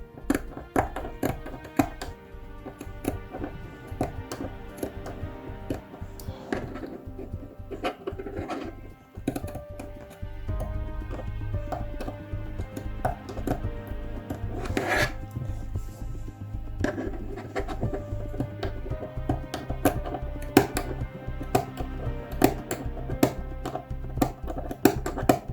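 Scissors snipping through the last cords of a macramé feather, a series of close, crisp cuts and taps at an irregular pace over soft background music, with no talking.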